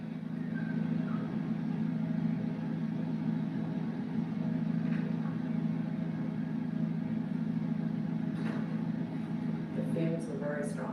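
A car engine runs inside a closed garage, a steady, loud, droning hum that holds without a break, with a few faint clicks and knocks late on.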